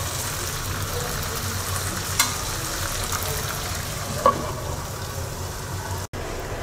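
Mixed fruit sweet-sour-spicy pickle simmering covered on low heat, giving a steady even sizzle and bubbling hiss with a couple of faint knocks, no talk.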